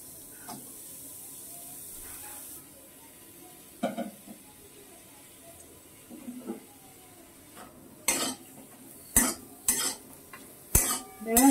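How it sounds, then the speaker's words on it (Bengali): Sliced onions dry-fry without oil in a wok over a low flame, mostly quiet with faint crackle, then a run of sharp, loud scrapes and clanks of a spatula stirring against the metal toward the end. "এটা আমি বেরেস্তাটা ভাজাই নেব।"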